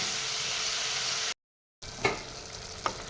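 Chicken meat sizzling in a pan, a steady hiss of frying broken by a short silence, then renewed sizzling with a couple of scraping stirs from a utensil.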